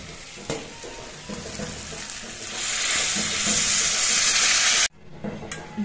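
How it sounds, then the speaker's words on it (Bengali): Hot water is poured into masoor dal (red lentils) frying in a pan for a Bengali dal tadka. A soft sizzle swells into a loud, rushing hiss that cuts off abruptly near the end. "এই গরম জলটাই আমি দিচ্ছি"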